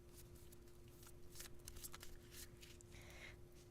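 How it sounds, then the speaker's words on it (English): Playing cards being shuffled by hand during a live storytelling stream, a soft riffling and rustling texture running throughout against a steady low hum, close and fairly quiet. "Alright, I'm shuffling the cards."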